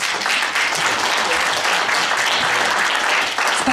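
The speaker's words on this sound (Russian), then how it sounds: "Спасибо вам, уважаемые зрители, за ваши аплодисменты" Concert audience applauds after a song, a loud, dense, continuous clapping close by that fills the whole stretch without any voice on top.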